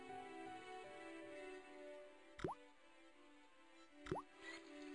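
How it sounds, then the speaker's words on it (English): Two distinct water plops with a rising, bubbly pitch, spaced a couple of seconds apart over a faint steady hum, as a rusty faucet sputters in a video game. "The faucet creaked, coughed, and spewed out a stream of rusty-colored water."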